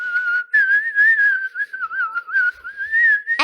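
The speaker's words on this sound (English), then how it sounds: "I love to whistle." A person whistles a wandering, sustained melody alone for about three seconds, the tune sliding up and down with short breaks, ending in a sharp noisy burst.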